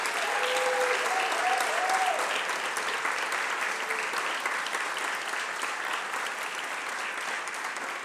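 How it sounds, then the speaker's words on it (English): An audience at a Brown University award ceremony applauds the awardees, a sustained burst of clapping from a crowd that stays loud and then gradually eases, with brief faint talk near the start. "let's give a final round of applause for all of our inspiring awardees"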